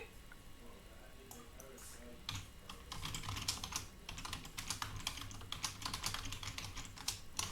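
Typing a query on a computer keyboard: quiet, quick runs of light key clicks that grow busier and keep on steadily, with faint background noise.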